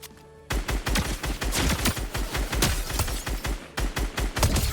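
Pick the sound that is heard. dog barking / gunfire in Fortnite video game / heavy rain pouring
gunfire in Fortnite video game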